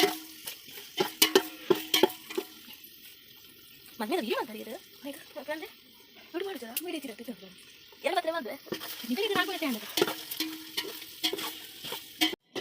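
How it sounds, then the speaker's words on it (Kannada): An egg frying in a home kitchen pan, a light sizzle with a few sharp clicks, largely under a person talking through most of it. "ನೋಡಿ, ಫ್ರೈ ಆಗ್ತಾ ಉಂಟು. ಇದು ಎಗ್ ಮೊಟ್ಟೆ."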